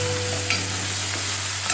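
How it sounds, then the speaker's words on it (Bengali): Spice paste stir-fried in a pan for a no-onion, no-garlic paneer and potato curry, giving a loud, steady sizzle with constant scraping and stirring throughout, no voices. "ভালো করে মশলাটাকে কষে নেব।"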